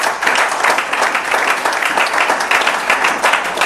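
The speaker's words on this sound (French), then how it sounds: "Applaud for the Lord." Church congregation clapping loudly and steadily during a bilingual French-English sermon, dense sustained applause close by with no other sound standing out.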